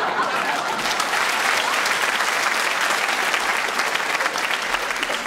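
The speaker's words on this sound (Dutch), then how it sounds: "Dank u voor dit spontaan applaus." Audience applause fills a theatre during a Paul van Vliet cabaret show, dense and sustained clapping from a large crowd, loud and even throughout without letting up.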